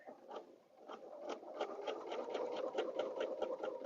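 Sewing machine stitching a quilt, a steady run of rapid mechanical stitching pulses that gradually builds in loudness, close by with no talking.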